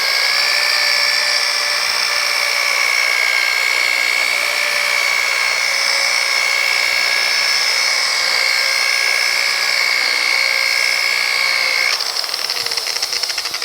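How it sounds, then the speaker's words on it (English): An electric polisher works over the bed of a 1950 Chevy truck, giving a loud, steady, close-up motor whine that holds a constant pitch, then shifts and rises briefly near the end as the speed is raised. "I'm just not blindly moving the polisher around. And we'll pick up the speed."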